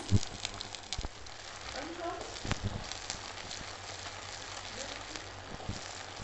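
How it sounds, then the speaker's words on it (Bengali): Garlic, about one and a half tablespoons, sizzles in hot oil in a pan while being stirred during the making of a sweet, sour and spicy green mango pickle, a steady moderate crackle with occasional scraping clicks. "রসুন দেড় টেবিল চামচ এটার কাঁচা গন্ধটা চলে যাওয়া পর্যন্ত নেড়ে নিচ্ছি"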